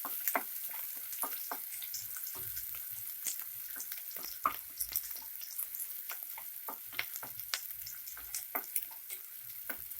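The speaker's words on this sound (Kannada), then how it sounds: "ಅಲ್ಲಿಗಂಟ ಫ್ರೈ ಮಾಡ್ಕೊಳ್ಳಿ ಈರುಳ್ಳಿನ." Onions frying in a pan for village-style chicken chops give a soft, continuous sizzle broken by frequent sharp crackles and pops, quiet and close, with no voices.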